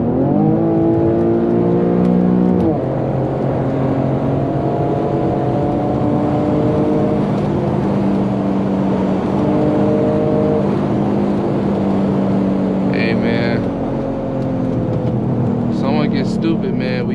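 A Toyota Supra and an Infiniti G37 are driven in sports mode with engines revving; a loud, continuous engine drone rises and falls through gear changes, with talk mixed in.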